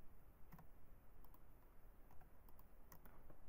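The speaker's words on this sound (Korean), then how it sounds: "탭을 눌러서" Keystrokes on a computer keyboard while code is edited in Visual Studio Code, with a few faint, sparse clicks spread over a few seconds against a quiet background hiss.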